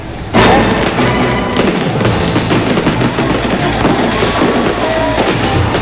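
Loud, continuous New Year fireworks display explosions crackle and boom one after another, dense and close, with sharp bursts layered over a rumbling low end.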